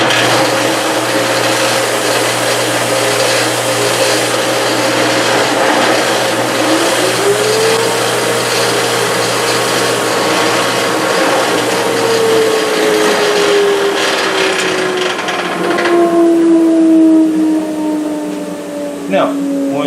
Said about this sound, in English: you can put it on an edge sander like this